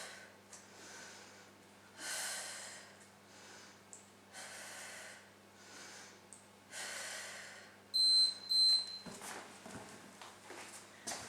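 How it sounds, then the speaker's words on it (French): Hard, forceful exhales during a home jumping workout, a series of loud breaths spaced a second or two apart, close to the mic over a faint steady hum, followed by a few thumps and shuffles near the end. "On expire bien en montant."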